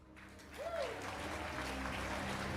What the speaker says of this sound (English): I'm glad that the round of applause was about equivalent to Dwight's trauma.